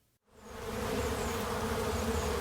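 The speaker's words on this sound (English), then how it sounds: "checking on his honeybee hives" Honeybees buzz around backyard hives in a community garden in downtown Omaha, Nebraska, on a sunny March day: a dense, continuous swarm drone rises quickly and holds steady, close and loud, with no voices.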